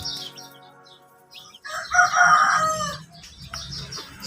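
Rhode Island Red and Black Australorp chickens on a small farm, a rooster giving one loud close crow in the middle, with soft clucks and chick peeps before and after.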